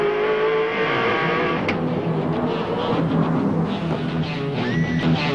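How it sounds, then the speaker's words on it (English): A V8 touring car from the 1996 Australian Touring Car street race in Wellington brakes hard through a high-speed chicane, engine note dropping then roaring on, loud and close with continuous racing engine noise. "Now Seaton closing up through that chicane under brakes."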